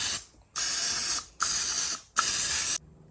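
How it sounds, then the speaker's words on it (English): Non-stick cooking spray is sprayed onto a muffin tin in three short, loud, close hissing bursts, separated by brief pauses, with no talking. "spray this muffin tin with a non-stick cooking spray"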